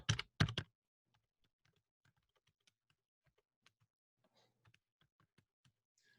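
Soft, scattered keystrokes on a computer keyboard, irregular and faint, follow two brief louder bumps at the start in an otherwise quiet room.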